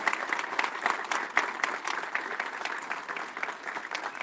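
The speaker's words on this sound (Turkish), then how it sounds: "büyük bir alkış rica ediyorum sizlerden" Sustained applause from a crowd at a municipal ceremony unveiling new city service vehicles in İzmir, a rather faint, continuous patter of many hands clapping with a few sharper claps standing out.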